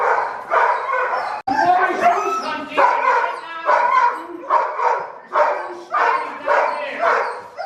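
Iditarod sled dogs at an Alaskan kennel bark and yip in a loud, continuous chorus, rhythmic bursts of many dogs overlapping up close with whimpers and howls mixed in.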